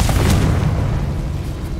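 A Confringo spell blast in Hogwarts Legacy: a loud, booming burst that hits at once and then decays into a broad rumbling roar, with no voices over it.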